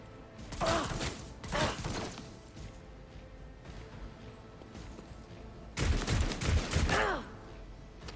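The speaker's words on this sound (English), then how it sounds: "Okay, that was good shooting." Gunfire in the Warhammer 40,000: Rogue Trader video game, with two sharp volleys early on and a longer, heavier burst of shots later, over a steady low game-ambience bed.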